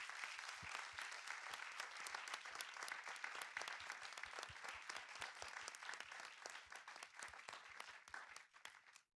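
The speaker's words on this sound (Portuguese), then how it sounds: "só pedir para todas presentes assim uma salva de palmas para nossa convidada por compartilhar a história" Audience at a periphery cinema and collective memory event applauds the guest who shared her story, a dense sustained clapping that fills the room steadily before tapering off at the end.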